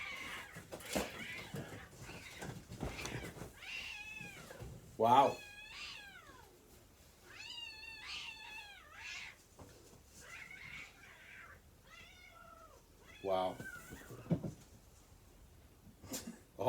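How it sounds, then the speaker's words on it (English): Cats fight outdoors at night, with drawn-out rising yowls and caterwauls alternating with sharp hisses and spits, somewhat distant and faint, while a person briefly reacts in a low voice. "You got some cats just going at it hardcore out here."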